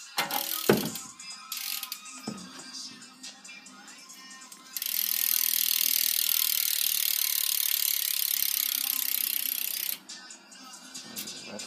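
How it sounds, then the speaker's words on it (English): The rear hub of a 2012 We The People Trust BMX bike ratchets, first in scattered clicks, then a loud, fast continuous buzz of freewheeling pawls for several seconds before slowing back to clicks. "For a hub sound, this is what the hub sounds like."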